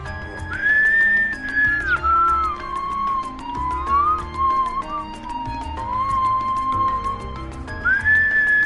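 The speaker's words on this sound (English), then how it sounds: "I know I'm whistling, but I don't care." A character in the Legend of Heroes: Trails of Cold Steel video game whistles a clear, wavering melody. It sounds over steady game music, loudest at the start and the end.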